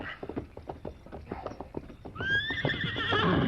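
A horse clip-clops along with a quick, even run of hoof beats, then lets out a loud, drawn-out neigh that rings over the steps near the end, close and clear.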